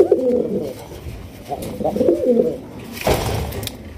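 Raj Golla pigeons give deep, throaty coos in short repeated phrases, close and clear, followed by a brief rustle or flap toward the end.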